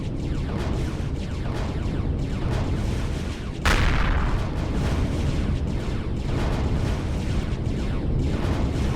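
An EMP turret is destroyed in the space game Empyrion Galactic Survival, a sharp blast that cuts through a continuous dense roar of weapons fire and rumbling explosions.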